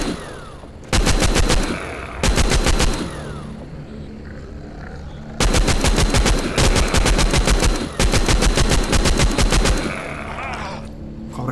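Rapid automatic gunfire in a zombie shooting video game, loud bursts of sharp repeated shots in several separate volleys across about eleven seconds, with quieter game ambience between bursts.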